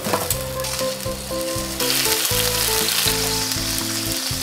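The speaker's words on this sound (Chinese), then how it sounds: "上锅开煎" Seasoned beef steak, sprinkled with sea salt and pepper, searing in a hot pan, a loud continuous sizzle that steps up sharply partway through, with a steady background music bed and no talk.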